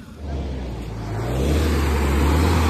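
Off-road vehicle engine revving hard and steadily, loud and close, rising in intensity as the stuck vehicle sits with all four tyres off the ground.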